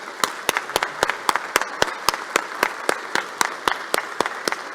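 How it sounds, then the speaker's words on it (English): One person claps in a steady, fast rhythm at a Memorial Day ceremony in the House. The claps sound close and distinct over quiet room tone. "Let's give a round of applause for this American hero."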